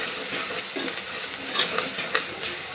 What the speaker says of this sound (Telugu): ఇవన్నీ మంచిగా వేగినాయి కదా